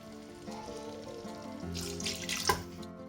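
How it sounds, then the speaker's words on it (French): Water pours into a pot of vegetable and chicken soup with tomato coulis and harissa, a steady close running splash that swells louder toward the end before cutting off. "Et on va rajouter un fond d'eau comme celui-là."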